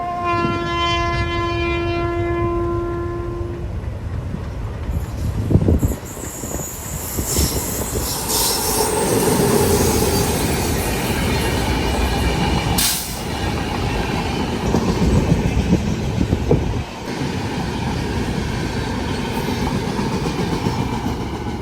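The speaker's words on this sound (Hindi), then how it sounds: "लॉन्गेस्ट रनिंग राजधानी की क्रॉसिंग हुई यहाँ पे, लॉन्गेस्ट रनिंग दुरंतो के साथ।" Rajdhani Express crossing the Duronto on the Konkan Railway, a horn blast opening into the loud rolling clatter and squealing wheels of passing coaches, sustained and close throughout.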